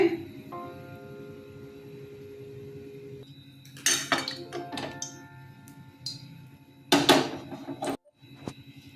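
Metal cookware clinks around a wok on a lit gas stove as white cooking oil is added, with a few sharp scattered knocks and rattles over a quiet background hum.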